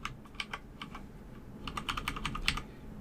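Keyboard keys being pressed to change the volume in Windows 11, a series of quiet, crisp clicks in irregular bursts, some single and some in quick runs.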